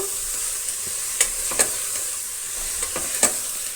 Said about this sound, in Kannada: ಈಗ ಇದು ಕೂಡ ಒಂದು ಅರ್ಧ ನಿಮಿಷ ಹಾಗೆ ಫ್ರೈ ಆಗಲಿ